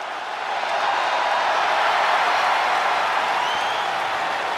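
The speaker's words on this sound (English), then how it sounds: "Listen to this ovation. The WWE Universe loves cheering on the EST." A wrestling arena crowd gives a sustained ovation for Belair, a dense steady roar of applause and cheering that stays loud throughout.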